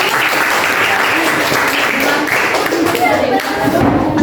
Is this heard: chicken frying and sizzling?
no